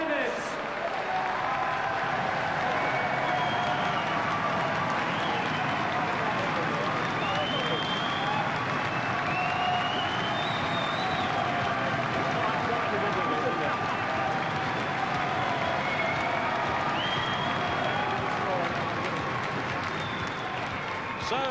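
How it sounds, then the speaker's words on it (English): A crowd at a 1992 snooker trick shot championship applauds Steve Davis, a steady, dense roll of clapping with cheering and whistles throughout. "Ladies and gentlemen, your vote and applause for Steve Davis."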